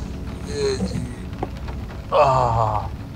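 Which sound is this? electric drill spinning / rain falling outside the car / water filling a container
rain falling outside the car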